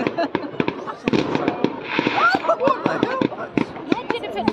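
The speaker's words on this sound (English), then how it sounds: "Someone just shot off a flare." A flare or rocket fired on New Year's Eve bursts amid a string of sharp fireworks cracks and pops, with excited voices talking over the noise nearby.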